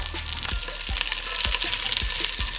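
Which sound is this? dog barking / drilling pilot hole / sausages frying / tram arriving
sausages frying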